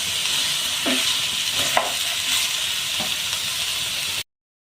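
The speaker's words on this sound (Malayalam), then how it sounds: "ഈ പാവയ്ക്ക ഇട്ട് കൊടുക്കാം ഇതും നല്ലതുപോലെ ഇതിനകത്ത് കിടന്ന് വഴഞ്ഞ് വരണം" Bitter gourd slices stir-fried in a pan with onion, shallots and green chillies give a steady, close sizzle, with a few scraping stir strokes on top, cutting out abruptly near the end.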